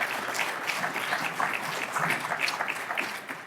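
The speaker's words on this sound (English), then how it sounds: "Let's give Jim another round of applause for those great comments." An audience at a panel event on rent control applauds in a steady, dense round of clapping that holds evenly throughout.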